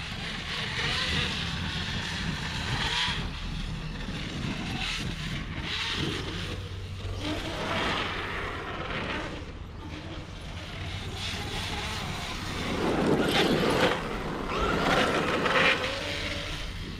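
A Kraton RC car fitted with a Dynamite 1200KV motor runs with a steady electric whine and rushing wheel noise, sustained and fairly loud, swelling toward the end.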